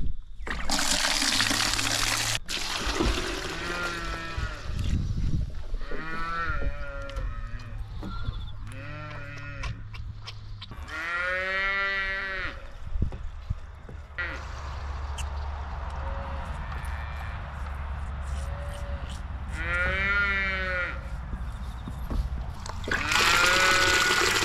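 Dairy-farm calves kept in hutches call out repeatedly at feeding time, with bleating, mooing cries, some near and loud, over a constant background of running water and farm noise.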